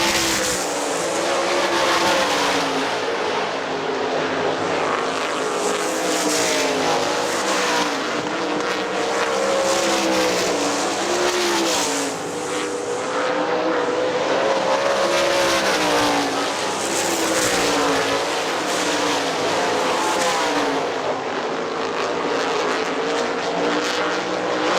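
Sprint race cars roar around Hartford Speedway Park in an outlaw sprint series event, a dense, continuous engine howl with rising and falling passes that stays loud and steady throughout.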